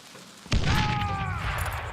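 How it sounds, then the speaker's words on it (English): A grenade explosion in the Western shooter Call of Juarez: Gunslinger, a sudden loud boom followed by a sustained rumbling roar with a ringing tone that fades slowly over about a second and a half. "I'm gonna throw some nades."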